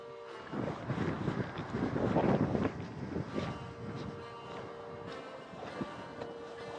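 Cold north-northeast wind gusting across the microphone on a chilly outdoor walk with a Finnish Spitz, a steady low rumbling roar that swells and eases, with no talking.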